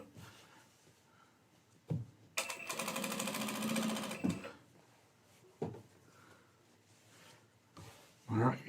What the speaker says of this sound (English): Doing the top stitch right now, pulling them open, like that.